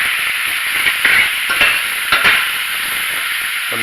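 Thin strips of pork sizzle in a stir fry over a high flame, a loud bright continuous hiss with a few crackling pops and stirring scrapes, no voices.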